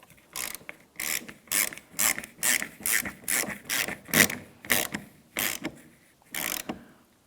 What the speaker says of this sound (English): continue on with installing your 13mm nut. Let's snug this up.